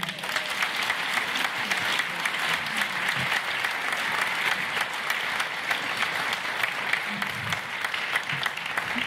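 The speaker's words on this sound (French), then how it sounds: "Je vous demande d'applaudir Mathilde Panot." Lengthy, steady applause from the audience at a political rally in Montreuil, dense clapping rolling on evenly with faint voices scattered underneath.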